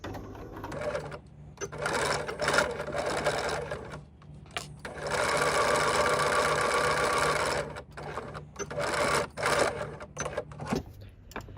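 Close, steady machine stitching on a decorated gift card holder sewn with fancy specialty thread, running in choppy spurts and then one longer continuous run before stopping and starting again.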